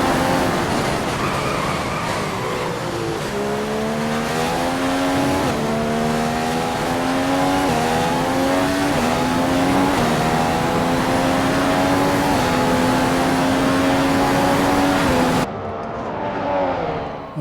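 Racing cars lapping Silverstone in a racing video game, a loud continuous engine whine climbing and dropping through gear changes, near and steady, cutting off abruptly near the end to a quieter engine drone.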